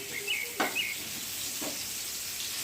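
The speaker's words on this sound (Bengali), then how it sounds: "এক চামচ মতো কালো জিরে আমি এতে ফোড়ন দিলাম" About a spoonful of black cumin seeds hits hot oil for tempering, giving a soft, steady hiss with a couple of faint crackles and pops, fairly quiet and close.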